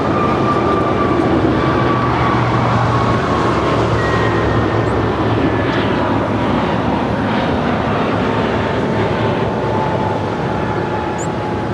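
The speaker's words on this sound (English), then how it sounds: "this is American Airlines A321neo on our way to Dallas, flight 769, rolling down." An American Airlines A321neo bound for Dallas from LAX climbs out, a loud, steady, unbroken engine roar with a high whine and a low rumble, heard from inside the cabin for its whole length.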